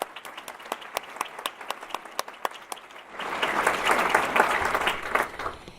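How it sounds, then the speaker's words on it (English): Audience at an alumni merit-loyalty award ceremony claps, first with a few sparse, spaced claps that swell into fuller, sustained applause from a crowd in the room. "So how about a round of applause for Julie today?"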